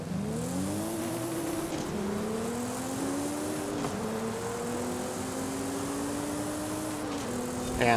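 Race cars in Forza Horizon 5 rev and accelerate together, several engines climbing through gear shifts in steady rising sweeps, loud and continuous with no talking.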